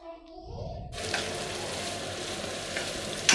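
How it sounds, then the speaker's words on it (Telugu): Onions and capsicum hit a hot pan already frying mustard seeds, dried red chillies and chana, and a loud steady sizzle breaks out at once and carries on without a break. "తర్వాత కొన్ని ఆనియన్స్ వేసుకొని ఫ్రై"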